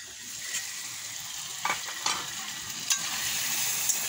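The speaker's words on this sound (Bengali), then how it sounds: "পেঁয়াজ, কাঁচা লঙ্কা, জিরে মরিচের গুঁড়ো দিয়েছি তেলের উপর।" Onion, green chilli, cumin and chilli powder frying in oil, a steady hissing sizzle punctuated by a few quick stirring scrapes, close by with no talking.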